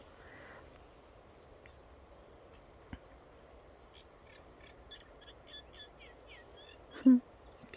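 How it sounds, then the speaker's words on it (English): A bird calls outdoors near reeds, a quick series of short, faint repeated notes over quiet ambient background, with a single soft tap earlier and a brief louder thump near the end. "Can you hear that bird?"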